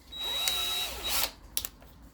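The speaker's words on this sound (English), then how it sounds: "countersink into a standard drill." Countersink bit spinning in a standard power drill, a steady whining motor run for about a second with a pitch that dips and recovers, then a few brief sharp clicks and bursts close by.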